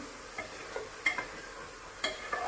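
Vegetables sautéed in plenty of hot oil in a home kitchen, a soft continuous sizzle broken by light scraping and clicking strokes as a spoon stirs the pan, close and even.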